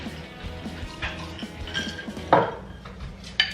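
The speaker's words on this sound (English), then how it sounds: "And then we're just going to mix it all up." Jack Daniel's BBQ sauce and pineapple juice are stirred together in a bowl, producing soft scraping and a few louder clinks of a utensil against the container.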